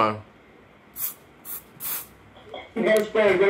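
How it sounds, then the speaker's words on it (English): Aerosol smoke detector test spray is fired directly into a smoke alarm head in three short hissing bursts, close up, followed by someone talking. "You gotta spray a good amount in there, right directly into the head."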